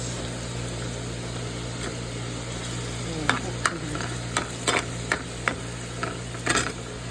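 Chicken pieces fry in a pan with onion, ginger and garlic, giving a steady close sizzle. From midway, a series of sharp spatula scrapes and stirs cuts through it.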